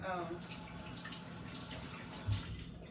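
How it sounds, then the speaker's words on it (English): Hands are rinsed under a running kitchen tap between steps of mixing gluten-free brownie batter; a steady stream of water runs for about three seconds with a brief louder splash near the end. "you can slightly rinse your hands and get back to the next ingredient"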